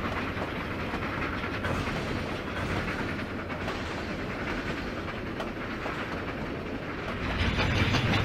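A train rumbles steadily along the tracks with a continuous rolling clatter, close and even, growing slightly louder at the end.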